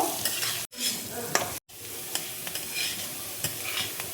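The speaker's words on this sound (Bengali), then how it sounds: "মুগের ডালটা আমি ভেজে নেব" Mung dal frying in ghee in a kadai, with steady sizzling broken by repeated stirring scrapes and two brief dropouts; close and fairly quiet, no talk.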